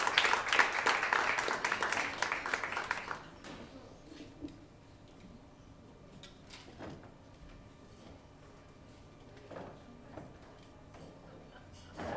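Concert audience applauding a jazz quartet, a dense burst of clapping for about three seconds that quickly thins to a few scattered claps and small room noises.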